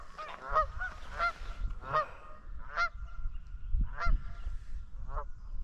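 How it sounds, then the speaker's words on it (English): Geese honk repeatedly at a riverside camp in the early morning, sounding from a moderate distance. The calls come in short, irregular bursts over a low, rustling outdoor background. "I'm quite glad the geese woke us up early."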